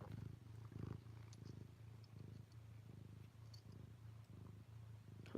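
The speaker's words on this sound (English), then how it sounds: "Such a healing sound, the sound of a cat purring." A cat purrs close up in a steady, rumbling rhythm, each breath cycle pulsing softly and evenly, with no voices over it.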